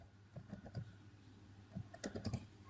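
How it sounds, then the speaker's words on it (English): Someone types a command on a computer keyboard, giving two short bursts of quiet, close key clicks separated by a pause. "Now you need to type the command regedit"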